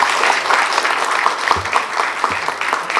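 Audience applause at the grand opening ceremony of a lovebird society in Karachi, a steady, dense patter of many hands clapping for about three seconds with no talking over it.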